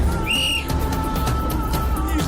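A short, shrill whistle blast sounds near the start over a steady background hum, standing alone and fairly loud.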